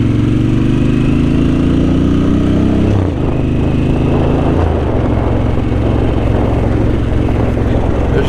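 A Harley-Davidson Sportster S motorcycle engine drones loudly and close while riding, its pitch climbing steadily, then dropping sharply as it shifts and settling into a lower, rougher rumble.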